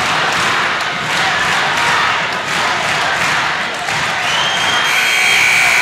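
Loud basketball crowd roaring steadily in a packed gym, dense cheering and applause filling the space throughout, with a high buzzer-like tone rising near the end.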